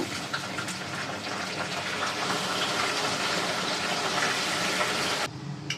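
Beef pieces go into a hot pan with fried onions for biryani, setting off a loud, dense, steady hiss of sizzling that runs for several seconds and then abruptly drops away.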